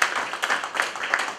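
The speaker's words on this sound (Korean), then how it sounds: "우리 자축하는 박수를 하겠습니다." Self-congratulatory clapping from a church group at a Korean Bible study class, a short burst of moderate, dense hand claps with a few sharper claps standing out.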